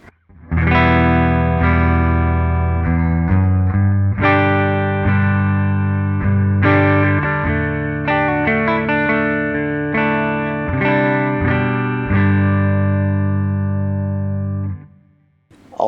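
Electric guitar on the neck pickup with no treble bleed circuit, heavily distorted: loud sustained chords and riffs ringing through an effects chain, dense and thick, ending with a brief fade.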